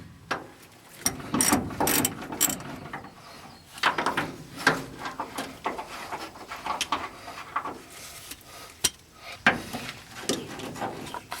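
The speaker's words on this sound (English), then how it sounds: "I'm going to go ahead and completely take these bolts off." A hand ratchet loosening bolts under a 1990 Chevy pickup during a fuel pump replacement, with bursts of quick clicking in uneven strokes, close and moderately loud, and pauses between sets.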